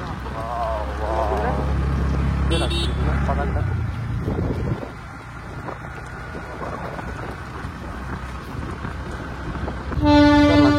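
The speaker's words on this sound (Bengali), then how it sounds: "দেখতে পাচ্ছেন টয় ট্রেন যাচ্ছে।" The Darjeeling toy train rumbles past close by on a hill road in the Kurseong area, a loud steady roll of wheels and wagons that ends in a sharp horn blast, with a voice talking over it.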